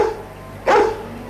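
A cartoon dog lets out a single sharp bark, loud and close, over a quiet background tone.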